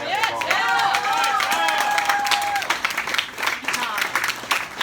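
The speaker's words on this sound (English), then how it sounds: "let's have a round of applause for our great MC, Tom." An audience at a Donner Party Chautauqua event claps and cheers for the MC, starting with a long whistle and breaking into lively scattered clapping with voices.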